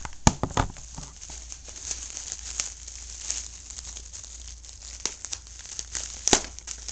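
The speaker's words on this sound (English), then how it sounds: "So I got more bubble wrap. So let's see if I can peel it off here." Bubble wrap being peeled off a packaged Ertl toy train coach, close-up crinkling and rustling of plastic, continuous with a few sharp crackles and snaps.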